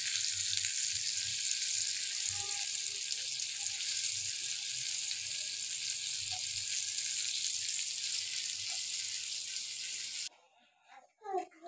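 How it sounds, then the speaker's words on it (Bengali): Food pieces fry one by one in hot oil, a loud, continuous close sizzle for about ten seconds with a couple of faint knocks, then cutting off abruptly to near silence with a few soft sounds. "এভাবে এক এক করে সবগুলোকে ভেজে নিতে হবে।"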